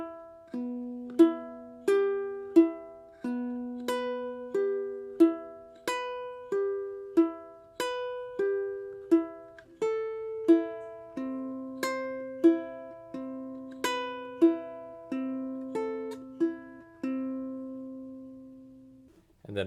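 A low-G ukulele plays one bar of O Come, O Come, Emmanuel fingerstyle at a slow pace, each plucked note and chord ringing out clearly and close in a gentle, unhurried rhythm.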